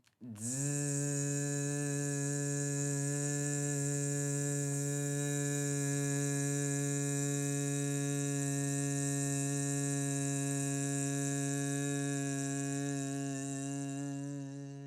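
A long, steady humming exhale through the teeth during a traditional Shivam yoga breathing exercise, the voice imitating a bee's buzz, one unbroken droning tone held close and clear for about fifteen seconds.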